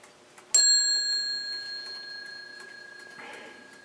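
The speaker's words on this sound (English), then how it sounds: "And this rings every half hour with the little bell." A 1900s Sessions mantle clock strikes its small bell once, a bright chime that rings on and slowly decays, with a faint tick beneath.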